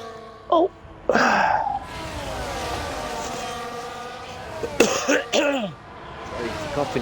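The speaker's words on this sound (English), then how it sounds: "Sorry for coughing again." A person with a very sore throat coughs in short harsh bursts, a pair early on and another cluster later, close to the microphone over a faint background hum of race cars.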